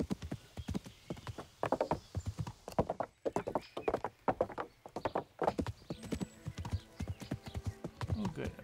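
Horse hooves clip-clop steadily in Kingdom Come: Deliverance, a rapid, continuous rhythm of close, loud hoofbeats on a road with an occasional whinny mixed in.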